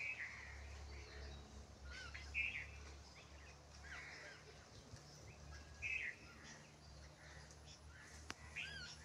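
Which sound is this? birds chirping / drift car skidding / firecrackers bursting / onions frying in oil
birds chirping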